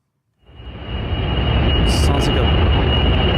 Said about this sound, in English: We can listen to what it sounds like to be near one of these data centers.